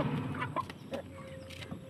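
Chickens clucking close by during feeding, several short clucks and calls in an irregular rhythm over quiet background.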